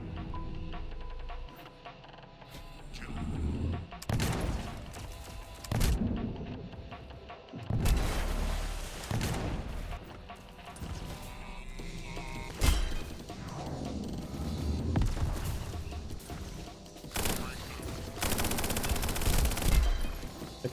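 Gunfire and explosions in the video game Echo Point Nova, with repeated loud bursts, booms and crashes coming in clusters across the whole stretch, dense and close with no talk over them.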